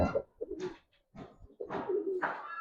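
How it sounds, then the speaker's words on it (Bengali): Giribaz pigeons of the Palla line coo in close, soft throaty bursts, several rolling calls separated by short pauses, with no talking. "পার্লার লাইনের কবুতর আছে"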